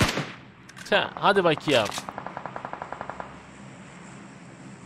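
Gunfire in PUBG Mobile: after a few loud, close bursts of shots, a rapid, evenly spaced string of fainter automatic shots follows, with someone speaking briefly over the opening.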